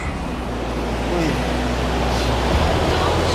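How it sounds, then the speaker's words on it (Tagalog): Strong ocean waves rolling in as a continuous loud wash of surf, steady throughout with no voices over it. "Malakas na ng alon. Lakas na ng alon."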